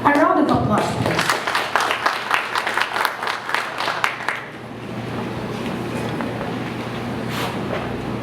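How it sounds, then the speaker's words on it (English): Audience applause at a Commission on Higher Education event, a burst of clapping over the first few seconds that tapers off, followed by quieter room noise and murmuring. "A round of applause, please."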